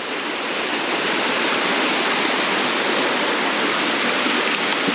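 A swollen mountain creek beside a steep mountain-bike trail near Korte on the coast rushes with a dense, constant roar that stays loud and even throughout, with no voices.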